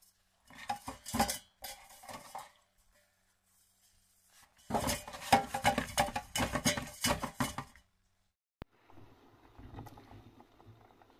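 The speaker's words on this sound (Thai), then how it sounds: "ขออนุญาตล้างมีดนะคะ" A kitchen knife rinsed under running water, with bursts of splashing and clinking metal against dishes coming in separate rounds, close by, ending in quieter trickling.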